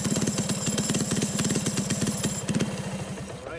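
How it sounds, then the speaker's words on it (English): A small standard lawnmower engine powering a lightweight supermileage vehicle runs loud and close, its rapid pulsing putter steady throughout before easing slightly at the end. "this is pretty much your standard lawnmower engine"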